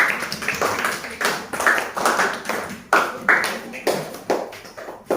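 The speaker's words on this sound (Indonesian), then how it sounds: "tepuk tangan untuk kelompok ras" Primary school pupils in a civics class clap for a student group after its presentation, a loose, uneven patter of hands in a room, with bursts rising and fading.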